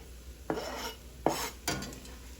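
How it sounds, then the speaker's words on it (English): Chopped white parts of leeks dropped into a cooking pot in three soft clattering pushes with a faint sizzle for a potato leek soup, quiet and close with no talk. "I'm going to go ahead and add about 4 to 5 leeks that I have, the white parts only, that I have cut and chopped. In the pot they go."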